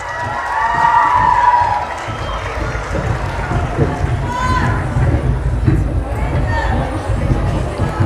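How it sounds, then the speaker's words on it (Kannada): An audience at an agricultural college cultural programme during Krishi Mela in Mandya applauds a students' dance performance. Sustained, loud crowd clapping and cheering carries through the whole stretch, with voices murmuring underneath. "ಎಲ್ಲ ವಿದ್ಯಾರ್ಥಿನಿಯರಿಗೂ ಜೋರಾದ ಚಪ್ಪಾಳೆ"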